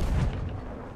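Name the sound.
cannon fire from a ship in the video game Sea of Thieves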